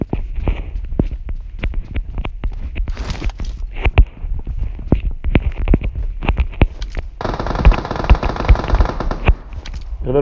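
PUBG Mobile gunfire: repeated sharp shots and rapid automatic bursts, some close and loud, others more distant, with a dense volley near the end and faint movement sounds between.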